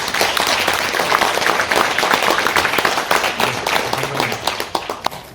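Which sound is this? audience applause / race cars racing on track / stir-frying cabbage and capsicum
audience applause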